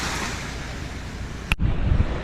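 Boat engine running at sea, a steady rushing drone mixed with wind and water noise that breaks off abruptly partway through, followed by low rumbling thumps.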